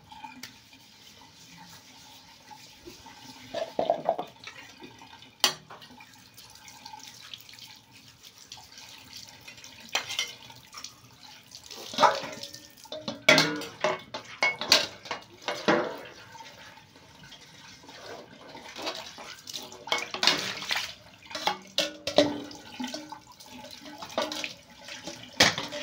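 Dishes, including a pressure cooker with burn stains, are washed by hand under a running tap at home. Water flows and splashes in bursts and metal and ceramic clatter, close and irregular, with no talk.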